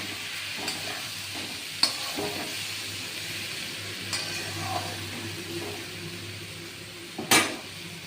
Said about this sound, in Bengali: এবার আমি এটা জিরে আর আদার সঙ্গে পেঁয়াজ রসুনের সঙ্গে এটা কষাবো